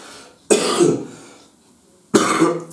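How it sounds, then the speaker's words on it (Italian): Two loud, close coughs, a short burst, then a pause of over a second before the second. "sta a parte il colpo di tosse"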